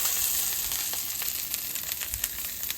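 Smash burger patty with Colby Jack cheese sizzling in a hot cast iron pan, a steady close frying hiss with faint crackles and no talking.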